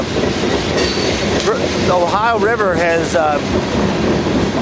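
Freight train M513 rolls past on the rails near Evansville, Indiana, with a continuous loud rumble of railcars and a squealing wheel whine, while someone talks over it.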